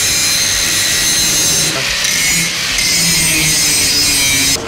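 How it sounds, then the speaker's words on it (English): An angle grinder grinds welds on the steel roll cage of a Fox Body car. It gives a continuous loud, hissing, rasping whine that holds steady for several seconds with only brief dips, and no one speaks over it. "I just need to grind out the heel."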